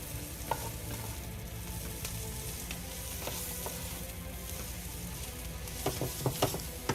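Mapo tofu sauce sizzles and bubbles in a pan as it heats to a boil, a steady close crackle with a few louder spits and stirring knocks toward the end.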